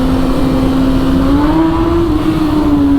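A 2025 BMW S1000RR sportbike with a full Akrapovic exhaust revs nearby, its loud, steady engine drone rising slightly in pitch and then easing back, heard alone without talk.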